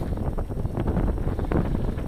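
Strong wind buffets the microphone during light-rod fishing from rocks on the Greek coast, a steady, rough low rumble that fills the clip with no speech.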